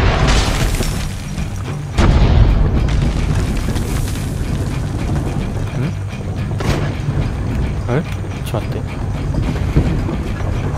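Heavy booming cannon blasts and explosions from the video game Assassin's Creed Brotherhood, with a loud burst near the start and repeated rumbling impacts over a dense battle din, a voice talking over parts of it.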